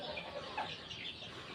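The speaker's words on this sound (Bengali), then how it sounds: "মুরগিগুলোকে জল দিলাম খাবার এখনও দিইনি" Chickens clucking softly at a distance, with brief scattered calls over a steady ambient background; no talking.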